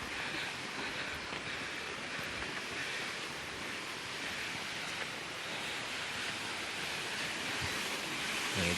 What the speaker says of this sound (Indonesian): ada 7 pancuran di sini ya